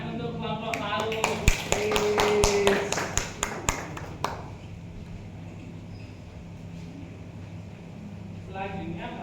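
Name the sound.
applause for a group of students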